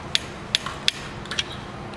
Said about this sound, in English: Using a torque wrench, you know it's torqued when you hear the click